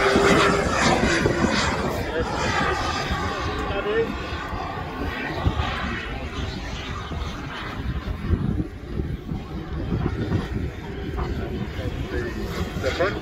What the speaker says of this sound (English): he's flying the L39 Albatross